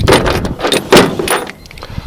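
Jangling of a set of keys for a 1986 Honda TRX200SX ignition switch; a few close, loud metallic clinks and rattles in short bursts, with no speech.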